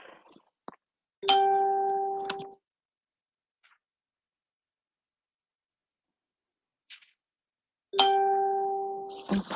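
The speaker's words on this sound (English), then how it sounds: "phone's going off its head." A phone rings indoors in two loud electronic bursts a few seconds apart, each a bright sustained tonal trill, with near silence and faint clicks in between.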